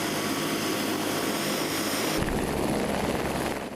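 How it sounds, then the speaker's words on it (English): A Texas Department of Public Safety police helicopter runs steadily and loudly up close, a constant rotor and engine roar filling the whole stretch, shifting to a deeper throb partway through. "the pilots check the helicopter before we take off"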